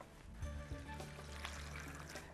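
Water poured into a cooking pot holding mutton, vegetables and lentils in a studio kitchen, a soft close trickle and splash heard faintly and briefly with no talk.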